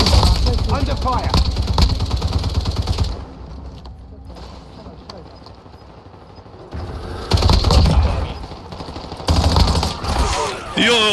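Heavy automatic gunfire from the battle royale game Warzone comes in loud rattling bursts, falls to a quieter stretch of scattered shots, then returns in fresh volleys, with a voice talking over parts of it.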